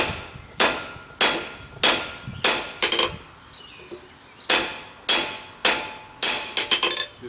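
A hammer strikes hot steel held half-on over the near edge of an anvil while a sign bracket is forged. About ten sharp, ringing metallic blows land close, in uneven groups with short pauses.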